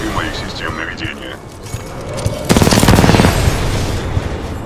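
Bursts of automatic gunfire from the video game Titanfall 2, a loud dense volley starting midway and running for about a second over ongoing game voices and ambience.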